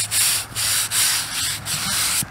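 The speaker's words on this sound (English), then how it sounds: "All it takes is a little bit of moisture and then some scrubbing and it pops right out of there." Scrubbing moss off a weathered World War 1 veteran's headstone, close rasping brush strokes in a quick back-and-forth rhythm with brief pauses between passes and no talking.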